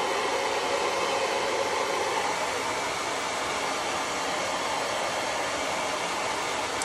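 A hair dryer blows steadily on white chalk paint coating a candlestick, a constant loud broadband whoosh that holds for the whole stretch with no voices.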